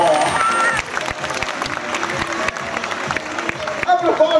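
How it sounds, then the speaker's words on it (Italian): An audience at a dolphin show in a lagoon bursts into steady crowd applause and clapping, heard under a presenter talking over it. "Dai, l'applauso!"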